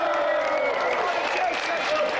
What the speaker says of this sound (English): let's have a round of applause for tonight's contestant